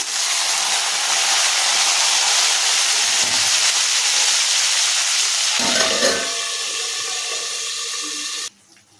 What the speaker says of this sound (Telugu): ఇప్పుడు టమాటా ముక్కలు వేస్తున్నానండి.